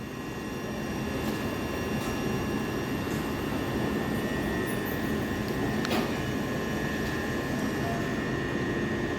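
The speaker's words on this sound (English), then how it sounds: "you got a Southern train here which is just terminated." A Southern train sits terminated at Three Bridges station, giving a steady, loud mechanical hum and drone with faint high whine layered over it. One brief click sounds partway through, and no one speaks.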